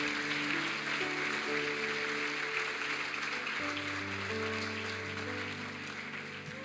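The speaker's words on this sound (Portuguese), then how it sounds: "Se for para aplaudir, aplauda aí" A church congregation applauds during an evening service, a broad wash of clapping held fairly low and steady beneath sustained organ or keyboard chords that shift pitch midway.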